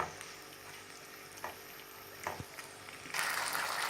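Chicken macaroni with tomato ketchup and red chili sauce sizzles in a pan over a high gas flame, a soft steady frying hiss with a few stirring clinks and a louder burst near the end.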